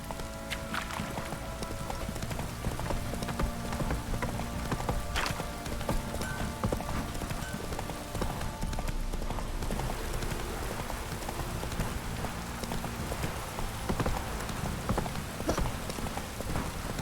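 Hoofbeats of the horse Roach in The Witcher 3 video game, a steady galloping clatter kept up throughout over a dense rain-like wash of ambient noise.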